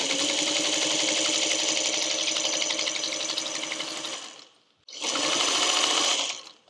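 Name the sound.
sewing machine stitching a quilt block seam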